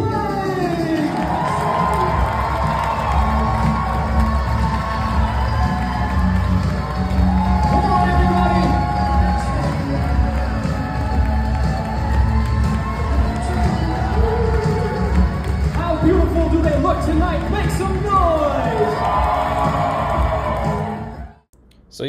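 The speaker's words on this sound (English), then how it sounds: "I need you all to make some noise. I need you to scream" Wedding guests cheer, whoop and scream continuously as the newlyweds are introduced, loud and close, with excited shouting sustained throughout before it cuts off at the end.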